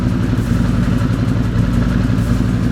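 A swamped quad ATV with diesel in the cylinder runs at low RPM, a loud, close, steady engine drone with a rough clattering pulse throughout.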